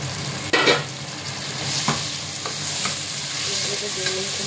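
Chopped tomato goes into a pan of frying onions for an egg curry, a sudden sizzle burst followed by steady frying crackle and occasional spoon stirs against the pan, close and alone.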